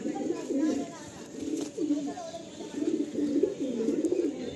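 Pigeons for sale in Kolkata coo in soft, repeated rolling phrases, a few close bursts with brief pauses between them, under faint background noise and a murmuring voice.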